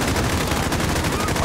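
Rapid gunfire in Call of Duty Modern Warfare (2019) fills the whole moment, a dense, loud burst of shots with no clear gaps between them.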